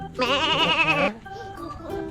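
At a Thai temple farm, a goat gives one loud, wavering bleat at close range, roughly a second long. Softer voices and faint animal calls follow.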